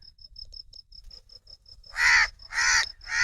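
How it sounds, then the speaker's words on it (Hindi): Crows near a shady jujube tree in open desert give three loud, close caws. A steady, rapid insect-like chirping pulses underneath throughout. "कौवे भी साथ देंगे"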